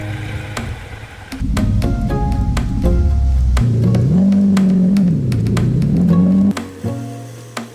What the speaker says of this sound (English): we headed off to drive on the main road before reaching the ATV track